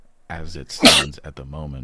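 A single sharp sneeze bursts out close by in the middle of a man's ongoing speech.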